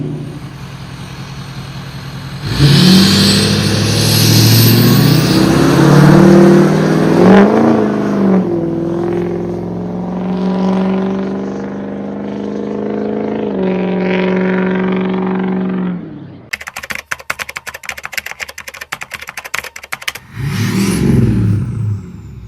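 A tuned 6.0 engine revs hard several times, rising and falling in loud close bursts, then settles into a rough idle and a crackling, popping stretch before one more rev.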